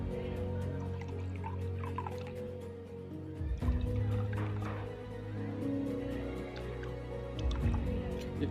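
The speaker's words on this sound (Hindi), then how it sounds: "और फिर मैं डाल लेता हूँ ब्लीच को।" Liquid bleach pours into a container with a soft, close trickle and gurgle, fairly quiet and steady, with a few drips and faint handling sounds.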